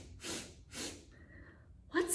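A narrator's voice imitates a baby bear sniffing: two soft breathy sniffs, then a brief pause and a sharper snuffle at the end, close and quiet.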